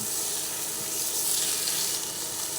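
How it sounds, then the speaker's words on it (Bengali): A beetroot cutlet fries in a kadai with a steady, close sizzle of hot oil that keeps going without a break. "এইভাবে ভালো করে ভেজে নিলাম"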